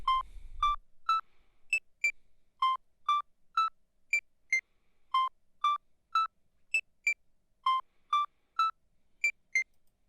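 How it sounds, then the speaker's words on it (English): Short electronic camera record-button beeps repeat in a rhythmic, melodic pattern at varying pitches, clean and close with nothing else around them. "the melody on this track is actually made from the camera beep of me hitting the record button"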